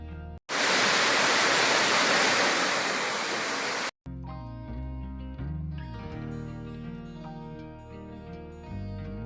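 Ranajilleda waterfall sends out a loud, even rush of falling water for about three and a half seconds, then cuts off abruptly as melodic background music takes over.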